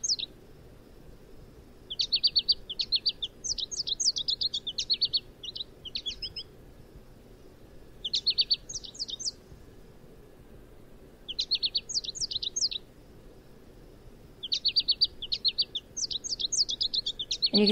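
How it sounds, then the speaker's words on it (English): An American goldfinch sings in bright twittering bursts, separated by short pauses, with a faint hiss in the background. "So this is a song of the American goldfinch."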